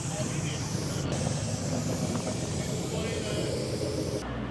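A can of spray paint hisses steadily while laying down a graffiti test line, a close, continuous airy spray that runs almost the whole time and stops just before the end.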